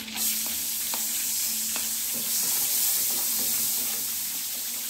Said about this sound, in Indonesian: Lalu kita masukkan bawang putihnya kalau margarinnya sudah panas.